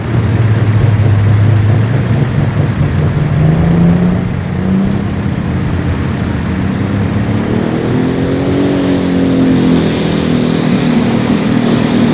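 A Light Super Stock pulling tractor engine roars steadily and loud throughout at a state fair pull, its pitch climbing as it revs hard, with a high whine rising near the end.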